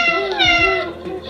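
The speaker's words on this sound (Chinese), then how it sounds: "小猫" A single cat meow, close and clear, rising then trailing off in one short call.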